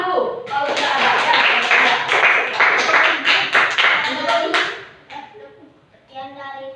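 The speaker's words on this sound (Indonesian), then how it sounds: "Kasih tepuk tangan dulu" Students clap together in a classroom, a burst of quick, overlapping hand claps close by that fades out, followed by a voice.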